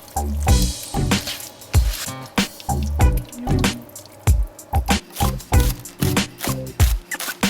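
Beef is stirred into a thick Mongolian beef sauce, giving a close, repeated wet squelching and sticky slapping in an uneven rhythm, loud and alone without talk.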